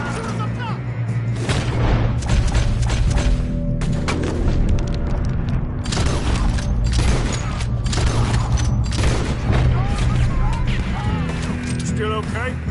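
Gunfire in Red Dead Redemption 2: repeated booming shots and crackling bursts in an ongoing firefight, loud and dense throughout. Voices talk over the shooting, with a low rumbling bed underneath.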